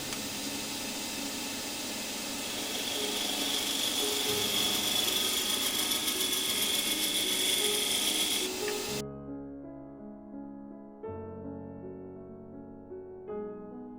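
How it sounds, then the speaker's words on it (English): A spindle gouge cuts into spinning wood on a wood lathe while shaping a three-sided box, giving a steady, close rasping scrape for about nine seconds before it stops and quieter sounds follow. "I'm just going to use spindle gouge, just stick it in there and remove some of the wood."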